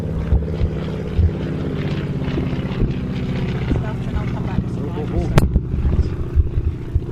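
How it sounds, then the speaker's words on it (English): A yellow Staggerwing biplane flies an airshow display at an airfield, its propeller engine droning steadily and loudly throughout while a commentator talks over it. "he's displaying for you in the lovely yellow Staggerwing"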